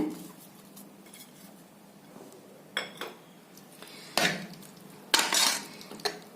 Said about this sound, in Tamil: நல்லா கலக்கி விட்டுருங்க.